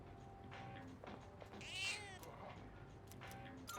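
A cat in the video game Persona 3 Reload gives one clear meow midway through, heard over quiet, steady in-game background sound.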